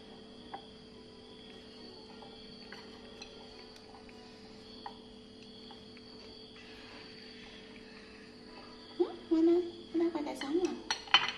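Potato fries being tossed and coated in flour in a bowl, with a soft steady insect chirr behind, then a burst of clinks and scraping against the bowl near the end.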